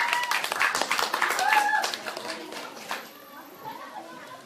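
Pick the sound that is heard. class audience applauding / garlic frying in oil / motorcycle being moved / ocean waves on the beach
class audience applauding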